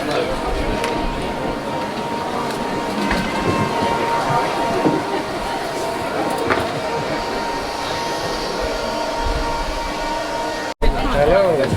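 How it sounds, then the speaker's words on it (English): Snowdon Mountain Railway train pushed by a Hunslet locomotive, heard from the back of the train as a steady loud rumble and rattle of the carriages with a continuous noisy wash, and talk over it. "So here I am, guys, at the very back of the train, right next to the engine."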